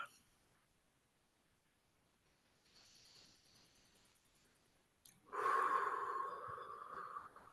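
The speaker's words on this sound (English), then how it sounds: "you can enjoy the inhale through the nose and exhale through pursed lips" Breathing exercise with a near, audible exhale through pursed lips, a steady airy hiss lasting a couple of seconds after a quieter inhale through the nose.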